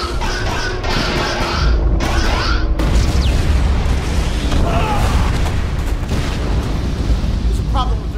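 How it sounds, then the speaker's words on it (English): Phaser fire in a Star Trek fan film: loud, sustained sci-fi weapon blasts and booming impacts under raised voices and continuous rumbling. "Phasers, fire at will!"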